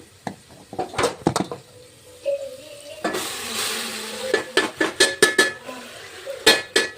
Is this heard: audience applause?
no